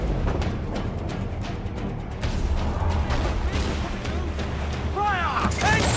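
Naval cannon fire from a sailing warship battle in Assassin's Creed IV: Black Flag, heavy booming blasts and crashes rolling under shouted crew voices, with a dense, continuous roar of battle throughout.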